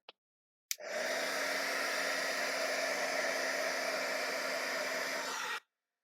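A hair dryer or heat tool blows steadily on wet paint on an art journal page, a loud, even whoosh lasting about five seconds after a click at switch-on, then cutting off abruptly.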